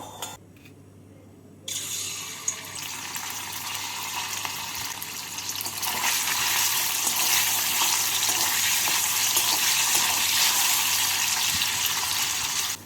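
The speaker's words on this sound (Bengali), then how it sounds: "তেলটাকে গরম করে নিয়ে এর মধ্যে পনিরগুলোকে ভেজে নেব" Paneer pieces fry in hot white oil in a wok over a gas flame, a steady loud sizzle that starts after a quiet moment and swells louder and denser partway through, with no talking.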